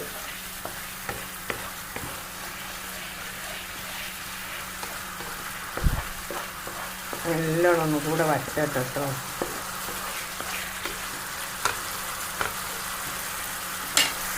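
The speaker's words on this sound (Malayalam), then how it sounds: "കുറുകേൻ്റെ ശേഷം നമുക്ക് ഈ മീൻ അതിലേക്കിട്ട് പൊരിക്കണം" Fish fries in hot oil in a pan, hotel style, giving a steady, soft crackling sizzle throughout with a few louder stirring clanks, while someone speaks briefly over it.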